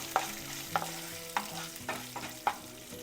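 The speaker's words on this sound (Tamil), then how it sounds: "அதுக்கப்புறமா கொஞ்சோண்டு இஞ்சி இது போட்டு நல்லா வறுத்துக்கலாம்." Green chillies and ginger fry with urad dal in a pan for chutney, a steady low sizzle broken by about five sharp, evenly spaced spoon clicks as the mix is stirred.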